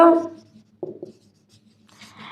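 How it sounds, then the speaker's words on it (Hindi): Chalk or marker writing a sentence on a board, a few short scratchy strokes after a brief spoken word at the start, fairly close and quiet. "चलो एक और लिख देती हूं"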